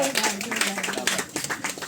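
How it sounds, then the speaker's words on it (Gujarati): Clapping from an audience at an award ceremony, a short burst of quick, irregular hand claps heard close under a speaking voice. "જોરદાર તાળીઓ થઈ જાય."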